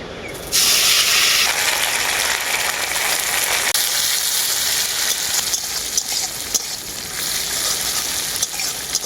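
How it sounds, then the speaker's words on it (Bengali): Neem leaves hit hot mustard oil in a wok and set off a loud, steady sizzle that crackles on close by without a break. "কড়াইতে দিয়ে দেবো এখন সরষের তেল প্রথমে আমি নিম পাতাগুলো ভেজে নেব"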